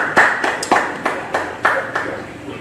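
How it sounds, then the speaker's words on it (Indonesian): Applause from a church congregation at a Bible study, heard as a series of about eight separate, fairly loud claps in an uneven rhythm rather than a full ovation. "Beri tepuk tangan bagi dia."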